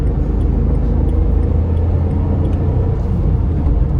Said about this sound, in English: As you can hear, quite a bit of wind noise in the cabin due to the lack of soundproofing, and also the engine noise is on the high side